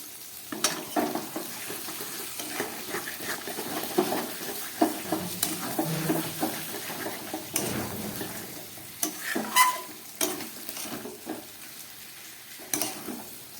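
Chicken fry with potato and tomato pieces being stirred in a pan: soft sizzling under intermittent spatula scrapes and light metallic clinks, fairly quiet and close, with no speech.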